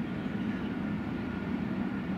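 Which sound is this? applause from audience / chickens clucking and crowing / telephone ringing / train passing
train passing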